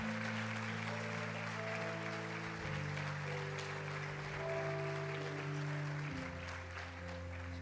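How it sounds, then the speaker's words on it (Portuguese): Applause from a church congregation at a fire-baptism worship service, sustained broadband clapping spread evenly throughout, layered over held keyboard chords. "pode aplaudir o Senhor por essa palavra"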